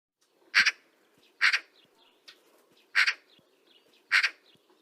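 Four loud, harsh chattering calls of a Eurasian magpie played from a bird-learning app, evenly spaced about a second apart, with fainter twittering in between and no talk.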